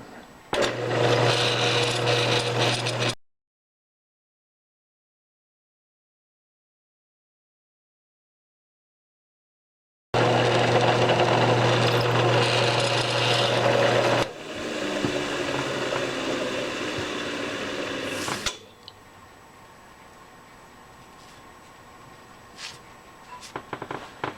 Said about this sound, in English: let's see what we can do about drilling that and tapping it.